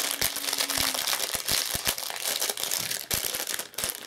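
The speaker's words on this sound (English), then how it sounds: "Sorry again about the crinkling." Plastic packaging around card-making supplies crinkles loudly and continuously as it is opened by hand, close up, with sharp crackles and rustles and no speech.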